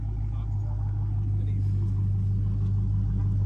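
A loud Dodge Charger Scat Pack engine idles with a deep, steady rumble close by, running continuously throughout.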